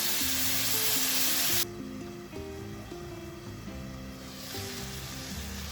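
Tomatoes for a tomato coconut chutney fry in a covered pan, giving a steady close sizzle that starts loud and bright, then drops to a softer, muffled bubbling once the lid goes on, with no talking.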